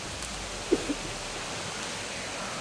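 Steady broadband wash of a flowing stream, continuous and fairly close, with a couple of faint brief knocks early on and no talking.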